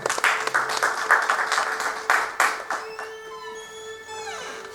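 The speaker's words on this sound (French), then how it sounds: "On acclame pour le Seigneur." Church congregation applauding, dense clapping from a crowd that swells and fades in bursts, then tails off near the end with a few remaining claps and faint musical tones.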